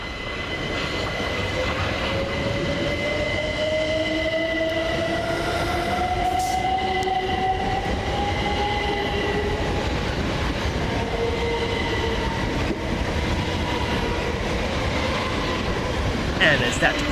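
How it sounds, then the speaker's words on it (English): A Southern Railway Class 387 electric train pulls out of Preston Park station on a London Victoria to Brighton service, its rising traction whine building steadily over continuous rail rumble and wheel noise, loud and close throughout. "Next train out for departure is 387225 and 387217 with the 1324 Southern Railway service from London Victoria to Brighton."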